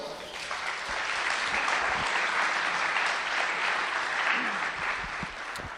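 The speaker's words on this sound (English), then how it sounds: "Come on, give him a round of applause" An audience at a startup competition's final day bursts into applause, a dense, steady wash of clapping that swells quickly and holds for several seconds before easing.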